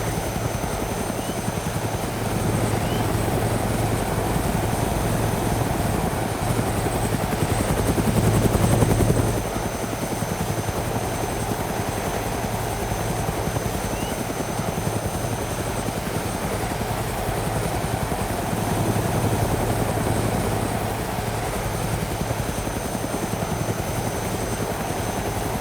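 A helicopter flies in the video game DayZ, its rotor and engine making a constant, loud droning hum that continues evenly, with a brief swell partway through.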